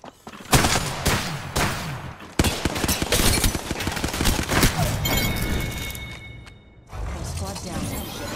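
Gunfire in the video game Apex Legends: bursts of rapid shots and mechanical weapon clatter, loud and close, with quieter pauses between volleys.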